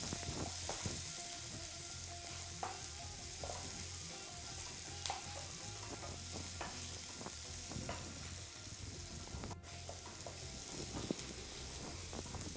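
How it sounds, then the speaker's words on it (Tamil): Sliced big onions sauté in a pan for vendakkai carrot poriyal, a soft steady sizzle and fry with occasional stirring scrapes and light clicks, close but quiet. "இப்போ இது ரெண்டு நல்லா வதங்கணும். கொஞ்சம் செவக்க வதக்கிட்டு அப்புறம் தக்காளியை போடுங்க."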